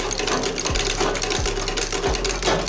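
A shoe-repair sewing machine with a loosened presser foot stitching steadily, a loud rhythmic mechanical whir with a heavy low thump recurring about every 0.7 seconds, close and alone.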